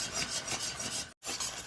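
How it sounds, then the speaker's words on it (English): A spatula scrapes and stirs cooking butter toffee around a pan, producing a quiet, continuous rasping with rhythmic strokes and one short pause near the end. "So you keep mixing and try to scrape the sides, get all that stuff."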